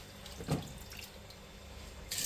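Water runs and splashes into a steel pot being washed at a sink, with a brief louder slosh near the start and a hiss of flowing water toward the end.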